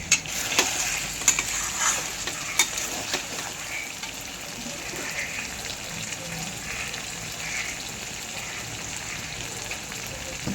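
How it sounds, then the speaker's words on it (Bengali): A little water poured into a pan of cooked chicken and potatoes being made into a dry kosha curry sets off a steady, close sizzle and bubbling, with a few sharp clicks and knocks near the start. "তো আমি সামান্য একটু জল দেবো, দিয়ে এটাকে ঢাকা দিয়ে দেবো।"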